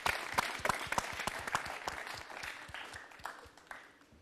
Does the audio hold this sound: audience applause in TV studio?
yes